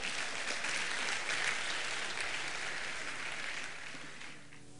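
An audience at a spoken gathering bursts into dense, loud, continuous applause, many hands clapping at once close by, holding steady for several seconds before starting to fade.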